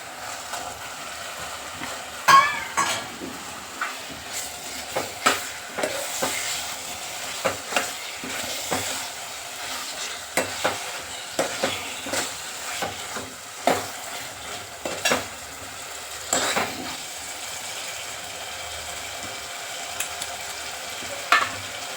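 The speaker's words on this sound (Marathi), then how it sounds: "त्यात वाम सोडून घेऊया." Eel fish frying in homemade masala in a pan: a low steady sizzle with repeated clinks and scrapes of a utensil against the pan, no talking.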